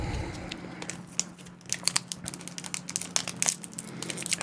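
Foil wrapper of a Pokemon card pack crinkling and tearing as it is pulled open, close-up irregular crackles and sharp rustling bursts that grow busier over several seconds.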